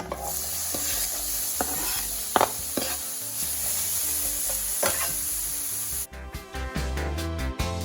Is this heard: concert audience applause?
no